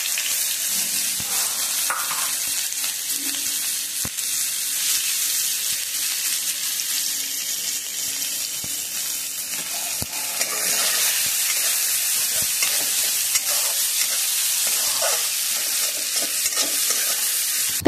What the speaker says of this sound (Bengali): আর এখন কালো জিরে ফোড়ন দিয়ে দিচ্ছি কেটে রাখা পেঁয়াজগুলো।